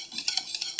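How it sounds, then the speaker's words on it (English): Cornbread batter stirred by hand in a bowl, a run of quick, close scraping strokes in an uneven rhythm, with no voices. "I'm just going to give each bowl a little stir"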